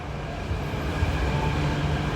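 An MTR C-train runs through Ngau Tau Kok station on the Hong Kong metro, giving a steady loud rumble of wheels and motors at close range with no break.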